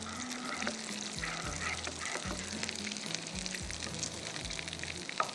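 Garlic frying in a pan for a Dhaka-style chicken roast, a steady soft sizzle running throughout beneath low background music, with no voices.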